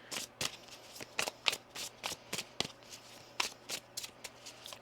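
Tarot cards being shuffled during a reading, a run of soft, crisp riffling snaps in an irregular rhythm, close and fairly quiet with no talking over them.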